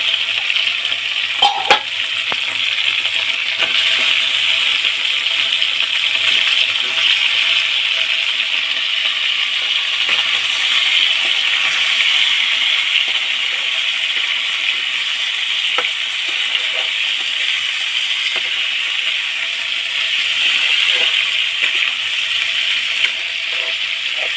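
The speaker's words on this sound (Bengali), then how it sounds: "এবারে আলুগুলো ছোট ছোট করে কাটা আলুগুলো ছেড়ে দেবো" Steady frying hiss fills the pot as small-cut potatoes go in with the frying meat. Faint scraping and stirring taps sound near and constant, with no talk.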